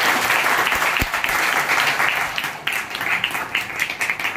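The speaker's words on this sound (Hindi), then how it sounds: "जोरदार तालियां बजाएं" Audience applause at a literature lecture, dense steady clapping that carries loudly for the whole stretch with no talk over it.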